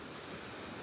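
Ocean waves wash at night on the shore at Lubo, Batangas, heard as a steady, broad surf roar with wind noise on the microphone.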